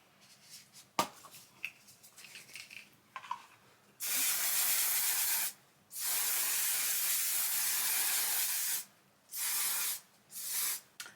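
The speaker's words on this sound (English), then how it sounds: "Now I'm gonna finish this makeup look with a setting spray." Several hissing spray bursts, the first long and steady, then shorter ones spaced apart, close by after some quiet handling noises.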